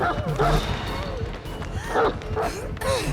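The Houndmaster's dog in a horror survival game, barking and yipping in repeated bursts close up, layered over game noise with people talking throughout.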